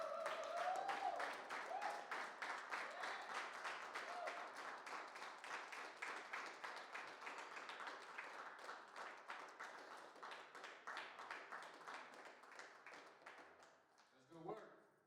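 Audience applause for a featured poet at a poetry event: a faint, steady patter of many hands clapping that runs for about fourteen seconds, thinning at the end, with a voice underneath at the start.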